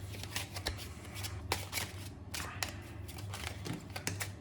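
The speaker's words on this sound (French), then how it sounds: "je bats les cartes" Small-format oracle cards being shuffled by hand, a rapid series of crisp close riffling bursts with brief pauses between them.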